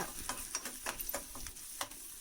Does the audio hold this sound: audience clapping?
no